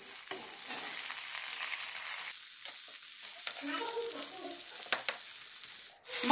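Pieces of katla fish fry in hot oil in a pan and are turned over, a steady close sizzle with soft scraping and bubbling, no talking.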